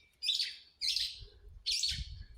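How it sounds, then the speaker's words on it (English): Birds in an acacia tree beside a house give three bursts of bright chirping and tweeting, fairly close and clear, each lasting about half a second, with low background rumble between them. "We have that acacia tree there, and it has a lot of birds."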